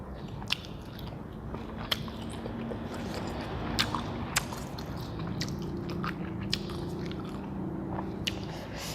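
Crunchy eating of pork rinds and crisp winged beans with chili dip and sticky rice, steady close bites and chewing with sharp crackles throughout, fairly quiet and with no talk.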